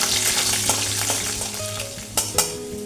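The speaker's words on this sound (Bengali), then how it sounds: "গোটা রসুনগুলো দিয়ে দিলাম।" Whole garlic cloves, dropped into hot oil with halved dried red chillies and cumin seeds, sizzle and fry loudly in a pan, a busy crackling hiss with a few sharper spits and stirring clicks.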